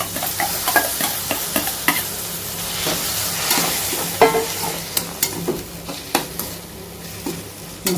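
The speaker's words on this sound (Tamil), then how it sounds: "அடுத்து தக்காளி போட்டுக்கோங்க தக்காளி போட்டுக்கோங்க" Chopped tomatoes frying in a pan for a farm-style egg curry: steady sizzle with repeated stirring scrapes and spoon taps on the pan, close and moderately loud, no talking.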